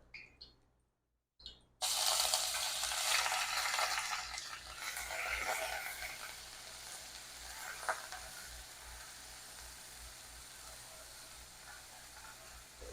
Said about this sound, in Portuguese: E aí a gente vai dourar a cebola que já foi ralada.